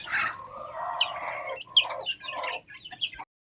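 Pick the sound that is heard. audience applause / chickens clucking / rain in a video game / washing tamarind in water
chickens clucking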